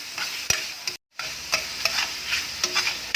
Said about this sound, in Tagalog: Haluin natin ulit yan.